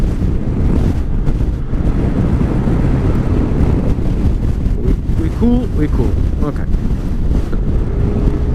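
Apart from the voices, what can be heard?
strong wind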